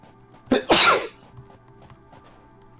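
A sharp, loud sneeze bursts out close by, a quick intake followed by a noisy explosive release, then only faint background sounds linger afterward with no talking.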